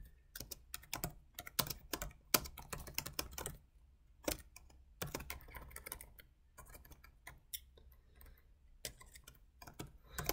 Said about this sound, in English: I'm a little bit slow on my laptop keyboard too, I apologize.